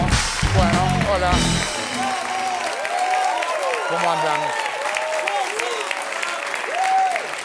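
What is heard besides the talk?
studio audience applause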